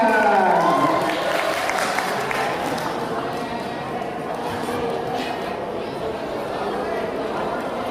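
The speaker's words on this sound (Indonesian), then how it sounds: "tepuk tangan buat teman-teman kalian yang mau ke depan" Classroom of students clapping for classmates who come to the front, broad steady applause mixed with crowd chatter, with a person talking over it at the start.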